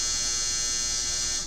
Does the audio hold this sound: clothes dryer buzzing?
yes